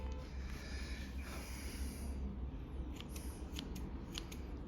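Freshly sharpened scissors cut through toilet paper in a few quiet, crisp snips near the end, against a faint steady background hiss with no talking.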